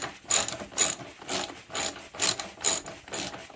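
A ratchet wrench snugs up a bolt on a Briggs and Stratton pressure washer, with loud, close bursts of rapid clicking repeated about seven times in an even back-and-forth rhythm.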